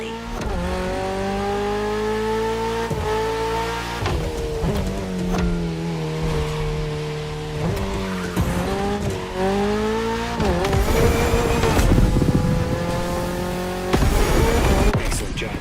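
A lightweight Toyota GR86 with a naturally aspirated engine in The Crew Motorfest racing game: a loud, continuous engine note rising and falling through gear shifts, with tire noise and brief talk over it.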